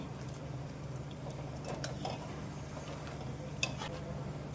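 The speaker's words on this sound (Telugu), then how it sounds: "ఇప్పుడు వీటిని అన్ని వైపులా తిప్పుకుంటూ ఈ బబుల్స్ ఆగిపోయేంత వరకు ఫ్రై చేసుకోవాలి" Semolina snacks deep-frying in hot oil, a steady soft sizzle and bubbling patter throughout with a few light clicks of turning, close and alone without talk.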